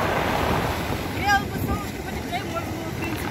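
Sea waves wash over a pebble beach on the Imeretinsky embankment in Sochi, a steady rushing surge with wind buffeting the microphone, while people talk nearby.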